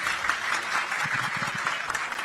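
Applause at a football club press conference presenting a returning player, a room full of clapping that holds steady throughout, with no one speaking over it.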